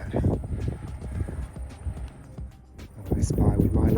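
Small horses walking on a trail in New Zealand produce a busy run of irregular hoof clops near the listener, with outdoor noise around them.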